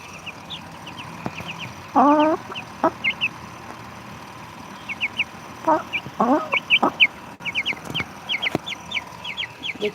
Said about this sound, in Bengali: মুরগির পিঠের উপর মুরগির বাচ্চা বসে রয়েছে